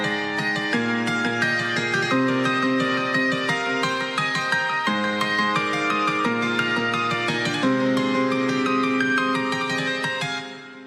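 Release-cut piano melody treated with delay and EQ, playing sustained chords with a bright repeating line on top that echoes in a steady pulse, full and wide, close and continuous with no talking, fading slightly at the end.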